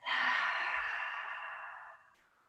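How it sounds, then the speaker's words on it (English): A deep, slow exhaled breath during a shoulder exercise, a close airy whoosh that starts strong and gradually fades over about two seconds. "Taking a breath."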